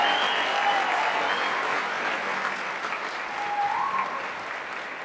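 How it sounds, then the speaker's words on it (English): A crowd applauds at the Bloomfield Central School District class of 2023 graduation ceremony, sustained steady clapping that fills the hall and eases slightly toward the end, with faint tones ringing over it. "give it a clap, absolutely"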